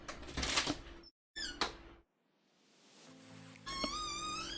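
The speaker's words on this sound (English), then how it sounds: "But let's open the door for this kitty." A door creaks open with a long high squeak, stretched and wavering, close and clear, among other squeaky bursts and brief silences.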